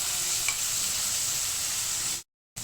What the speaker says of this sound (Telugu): వేయించుకుందాం బాగా